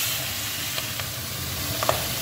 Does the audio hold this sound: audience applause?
no